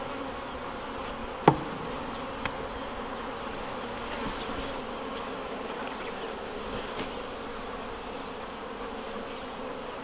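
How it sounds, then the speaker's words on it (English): Honey bees hum in a dense, continuous drone close by, with one sharp click partway through and no voices. "They all look like a bunch of bees."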